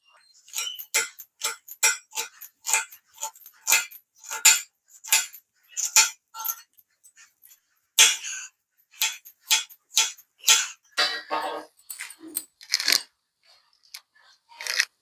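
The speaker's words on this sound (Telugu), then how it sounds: "ఇప్పుడు ఉల్లిపాయలు కూడా కట్ చేసుకోవాలి" A knife chopping onions on a board, with a rapid series of sharp, close clicking cuts in irregular bursts and brief pauses between them.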